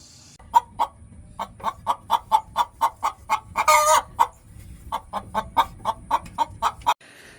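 A chicken clucks in a quick, steady series of short calls close by in a coop with a new nesting box, with one louder squawk midway, then the clucking resumes.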